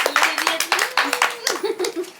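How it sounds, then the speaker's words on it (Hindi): A small group of children and adults claps in quick, uneven bursts during a Mahabharata quiz session, close and loud. Voices talk over the clapping, with a faint chuckle. "तालियां बजाई जाए तो चॉकलेट दी जाती है"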